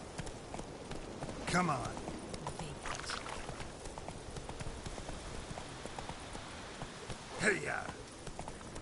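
Roach, Geralt's horse in The Witcher III, trots with soft repeated clip-clop hoofbeats under rainy ambience, while a man urges it on loudly twice.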